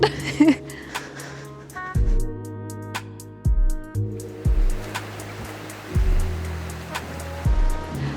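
Steady rushing of flowing water, fed through a mountain from Lake Inawashiro in Aizu, Fukushima, Japan, fills the background, broken by a few sharp knocks and a resonant tonal hum.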